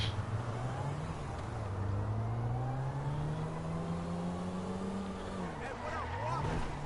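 A car engine in GTA V drones and revs steadily, rising in pitch, dipping, then climbing again, moderately loud and constant, with a voice speaking briefly over it.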